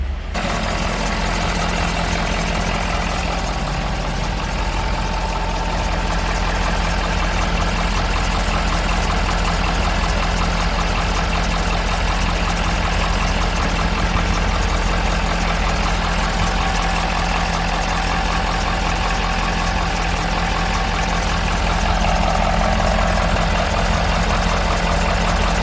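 A 2012 Ford F450 crane truck with 135,000 miles idles nearby, its engine holding a steady, loud mechanical drone with a constant low hum throughout, no voices present.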